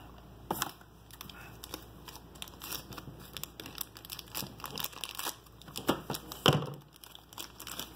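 Toy packaging being opened with scissors, with scattered sharp crinkles and snips of plastic, quiet and close, building to a louder crackling burst near the end, with no voices.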